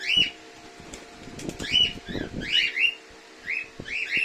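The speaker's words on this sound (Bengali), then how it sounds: "আমার সবচেয়ে বাধ্যগত পাখি।" A tame pet bird at a farm gives repeated sharp chirping calls close by, mixed with bursts of wing flapping and rustling, in an otherwise quiet room.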